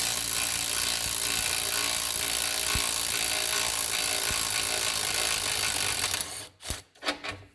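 A ratchet cranks loose a bolt on a 2015 Kia Forte 5 during wheel bearing and control arm work, giving a steady, continuous close-up clicking and rasping that stops abruptly near the end, leaving a few scattered knocks.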